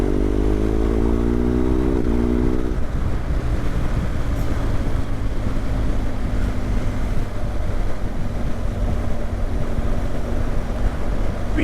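Engine of the Moto Explorer motorbike while riding around the Peak District, with a steady close drone, a rising gear-shift whine near the start, and heavy wind rush throughout.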